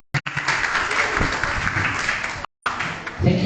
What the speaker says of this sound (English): please give applause to both teams